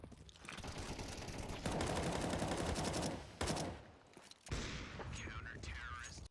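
Rapid automatic gunfire sprays in a Counter-Strike match, dense bursts of shots with a brief pause and a second burst, loud and close, with a voice talking over parts of it.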